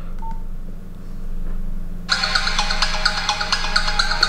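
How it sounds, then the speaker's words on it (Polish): A Nokia 112 mobile phone plays a music file through its small built-in speaker, a thin, bright melody of beeping tones that starts suddenly partway through after a quieter stretch. "posłuchajcie sobie, jak ten telefon gra"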